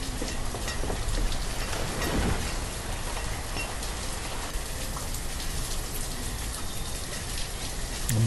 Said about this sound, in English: The constant pouring rain.